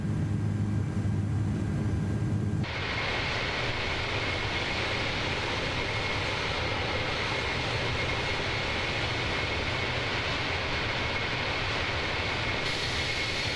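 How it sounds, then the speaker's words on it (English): Airbus A330 jet engines roar at takeoff power in Microsoft Flight Simulator 2024, a loud, steady broadband rumble and hiss that swells early on and then holds constant, with no talking. "And we have ourselves a good takeoff."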